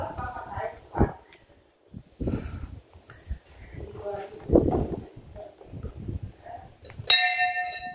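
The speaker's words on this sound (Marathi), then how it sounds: "मावशीने उडी मारून बेल वाजवल्या" Temple bells ring out near the end, a bright clang with a lingering shimmer, after stretches of people talking and moving about.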